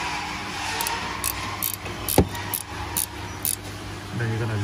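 A spanner cracks loose a front drop link nut on a Renault Captur or Kadjar. Scattered metallic clicks and clinks are heard close up, with one sharp knock partway through.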